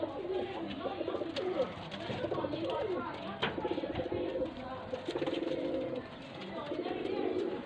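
A breeder pair of pigeons in Faisalabad coo close by, repeated soft throaty coos over a steady background hum, with faint chirps and a few sharp clicks mixed in.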